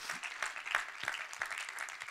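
A church congregation applauding during a sermon, a soft, fairly distant spread of many hands clapping with a few sharper claps standing out, steady for about two seconds.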